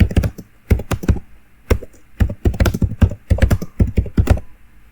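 Someone types a line of text on a computer keyboard in a nano editor session: loud, close clusters of punchy keystrokes come in rhythmic bursts separated by brief gaps, with no speech.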